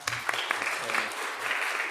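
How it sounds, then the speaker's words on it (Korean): Steady applause from a church congregation during a Korean Sunday service, a dense patter of clapping sustained throughout, moderately loud with faint voices mixed in. "박수로 환영합니다"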